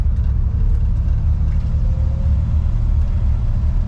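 Steady low engine rumble and road drone from a 1958 Buick Special on a short drive at around 30 mph, loud and continuous with no talking.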